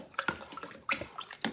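Water poured into a glass at home, heard as a few short, faint splashy bursts and trickles in quick succession, close by and quiet.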